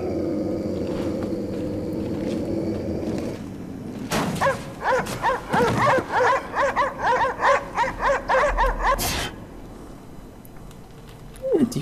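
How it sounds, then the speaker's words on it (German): Aggressive dogs in the video game Cryostasis snarl and bark in a rapid, loud series of overlapping yaps and growls after a low rumbling ambience, then the noise drops back to a quieter background. "die Hunde sind ziemlich aggressiv"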